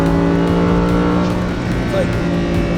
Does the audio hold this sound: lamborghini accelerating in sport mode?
yes